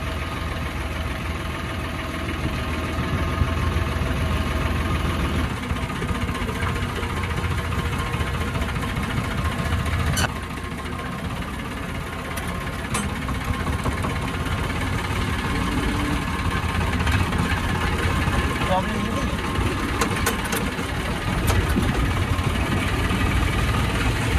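A tractor engine runs steadily at close range, a low rumbling drone with a faint knocking pulse that holds nearly constant throughout, with no voices over it.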